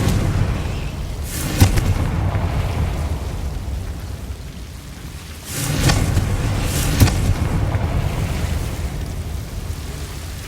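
Confringo spell blasts in the video game Hogwarts Legacy land as deep, rumbling explosions. One hits early, and a heavier burst with a sharp crack follows midway, over a constant low background rumble.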